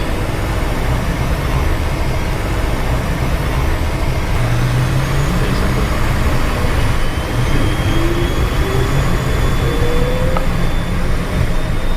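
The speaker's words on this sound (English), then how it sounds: "9 right, clear for takeoff" A Cessna Citation business jet accelerating down the runway on its takeoff roll, a loud, steady engine roar and rumble filling the cockpit with rising tonal whines layered over the broadband noise.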